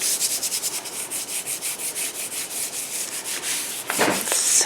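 Stencil paper rubbed by hand onto a ceramic tile, close rhythmic dry scrubbing strokes repeating about every quarter second, with a brief rougher burst near the end and no talking.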